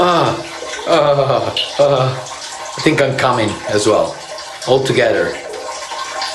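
A man urinates outdoors in the desert, a long steady trickle running beneath lively, overlapping talk from several men.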